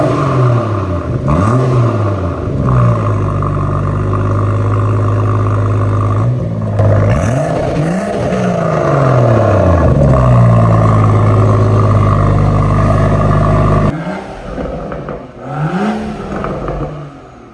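A BMW M140i with a straight-pipe Scorpion exhaust revs hard several times, each blip rising and falling sharply over a loud, throaty idle, with a sustained high hold in the middle before dropping back and revving again.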